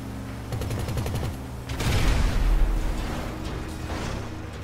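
A minigun fired in Grand Theft Auto V Online, a sustained rapid rattling burst with a heavier roaring surge partway through, loud and close amid game noise.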